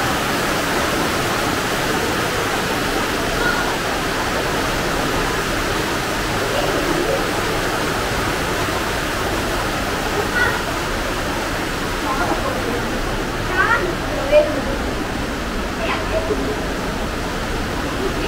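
A waterfall inside the St. Beatus Caves in Switzerland gives a continuous, even roar of rushing water that fills the cave, with faint voices murmuring now and then beneath it.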